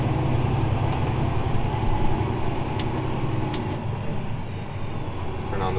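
A Fendt 942 tractor pulls into a field, giving a loud, steady engine rumble close by that holds throughout with no pause.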